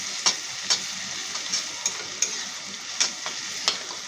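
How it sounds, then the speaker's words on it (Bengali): Onions and garlic fry in a pan for a Bengali fish curry, giving a steady close sizzle punctuated by regular sharp clicks of a utensil stirring against the pan, with no talking. "তোমরা দেখতে পারো এখনো পেঁয়াজ ফ্রাই হচ্ছে"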